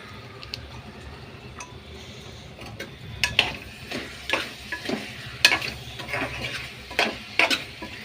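Vegetable rice mixed with curd sizzles and sautés in a pan, a steady close frying hiss broken by repeated scraping and clinking strokes of a spoon stirring against the metal.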